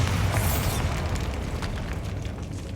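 A Bombarda blasting spell goes off in the Hogwarts Legacy video game as a loud, deep, sustained booming rumble that rolls on without a break for the whole stretch.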